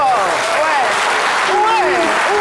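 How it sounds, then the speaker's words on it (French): A studio audience stands and claps loudly for the technicians at a French midday TV show, dense steady applause throughout, with a voice talking over it. "On va se lever et puis on va les applaudir très, très fort."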